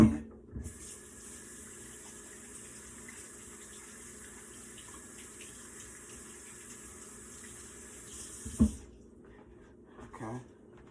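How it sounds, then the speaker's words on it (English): A kitchen sink tap runs in a steady, even gush for about eight seconds while hands are washed between steps of cooking a beef tri-tip roast, with a short knock at the start and soft handling noises after the water stops. "Wash my hands again."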